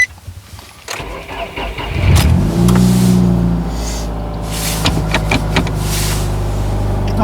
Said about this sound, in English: jump on the inside, start it up, see how it does